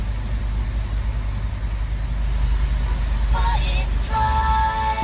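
The LPG engine of a 2013 Chevrolet Orlando with a fuel pump control module fault rumbles steadily up close, and a few electronic chimes and beeps join partway through.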